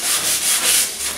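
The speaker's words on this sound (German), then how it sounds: "Erst machen sie das Dreck an und dann schleifen sie den Dreck einfach runter." Wood being sanded during construction of a wooden grill hut: steady back-and-forth rubbing strokes in a continuous, slightly pulsing rhythm, close and fairly loud, with no voices.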